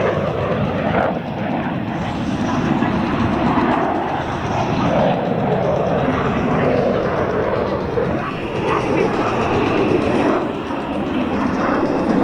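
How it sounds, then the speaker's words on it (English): A German Air Force Panavia Tornado fighter jet flies an aerobatic demo, its engines a sustained loud roaring rumble that holds steady throughout with no clear speech. "that enables this aircraft to operate from very austere airfields around the world"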